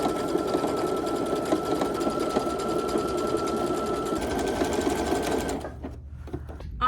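A sewing machine zigzag-stitches jeans in a rapid, steady mechanical chatter close by, running for several seconds before stopping abruptly and leaving a brief quiet rustle.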